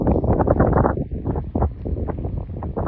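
Strong wind buffets the microphone in dense, continuous gusts in an apricot orchard field, loud and rumbling throughout with no other sounds standing out.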